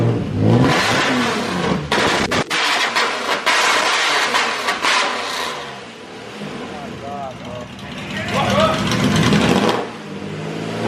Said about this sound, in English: the pitch of the engine is so freaking loud